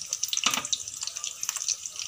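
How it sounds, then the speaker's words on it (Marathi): Water from crabs is poured into a wok while a Malvani crab curry is cooked in Kankavli, Konkan. It makes a close, bright splashing trickle with small irregular splashes and no talk. "हे खेकड्याचं सर्व पाणी आहे ते पण टाकायचं कढईमध्ये आतमध्ये"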